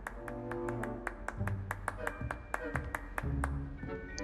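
Rapid sharp claps in Hogwarts Legacy ring out in a steady series, bright and evenly spaced, over a sustained musical backing.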